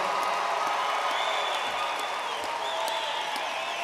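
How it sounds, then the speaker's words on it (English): A crowd at a high school graduation ceremony applauds the class of 2020 with steady, distant-sounding clapping, with scattered cheers and whoops mixed in. "let's give all of these students, this class of 2020, a big round of applause."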